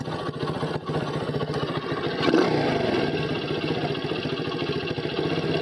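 A moped engine, its carburetor just adjusted, runs up close with a buzzy, uneven idle that swells into a rev around the two-second mark and holds a raised, steady drone to the end.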